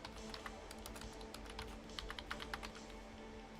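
Rapid, irregular clicking of keys on a computer keyboard, faint and close, with uneven bursts of keystrokes continuing steadily and no talk over them.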